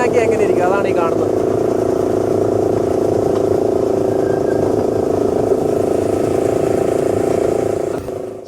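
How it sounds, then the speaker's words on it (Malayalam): Wulai scenic train in Taiwan powered by an auto-rickshaw engine, a loud steady motor drone heard from on board that runs continuously before cutting off near the end, with a voice talking over it briefly at the start. "ശരിക്കും ഓട്ടോയുടെ അതേ എൻജിൻ വെച്ചിട്ടാണ് ഈ ഒരു ട്രെയിൻ വർക്ക് ചെയ്യുന്നത്."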